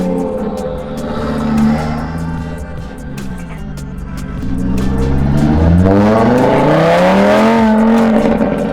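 A Mini Cooper R56 engine revs up loudly and climbs in pitch as the car pulls away, the rising note swelling in the second half, with brief talk early on.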